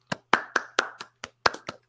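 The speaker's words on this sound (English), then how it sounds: "quick round of applause to everybody who's basically in the Champions League quarterfinals." A quick burst of hand clapping, roughly nine or ten sharp, separate claps in about two seconds, close and dry, from one or two pairs of hands with no crowd.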